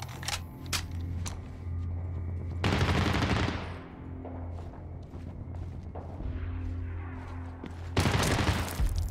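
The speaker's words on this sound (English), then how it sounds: "what are you shooting at, bro?" Gunfire in the Medal of Honor: Warfighter video game, a loud sustained fusillade of machine-gun bursts and shots over a constant low rumble, with heavy blasts swelling near the start and again at the end.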